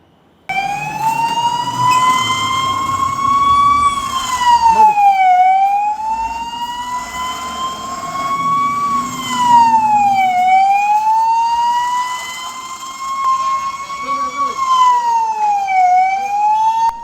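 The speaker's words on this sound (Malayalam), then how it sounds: "സിവിൽ ഡിഫൻസ് മോക്ക് ഡ്രില്ലിന്റെ ഭാഗമായി കുണ്ടറയിൽ സൈറൻ അലർട്ട് നടത്തി" A civil defence mock-drill alert siren at Vellimon Government UPS in Kundara wails loud and steady, rising and falling in long, slow sweeps for the whole stretch with no voices over it.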